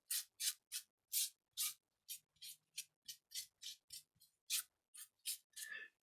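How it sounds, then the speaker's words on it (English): Cloth rubbing paint into a surface for a faux patina finish, a series of about fifteen close, regular scrubbing strokes, each a short hissy swish separated by brief pauses, with no talk. "use my existing cloth just to even it out, rub it into the"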